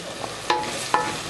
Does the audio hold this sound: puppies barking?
no